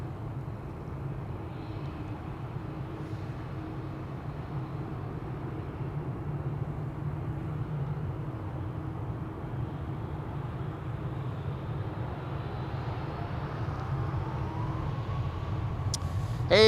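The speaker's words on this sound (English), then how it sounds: "Georgian Airways, I should say. This is going to Tbilisi, a 737-700." A Georgian Airways Boeing 737-700 leaves Amsterdam Schiphol. Its low, distant jet rumble holds steady, then swells into a rising whine toward the end.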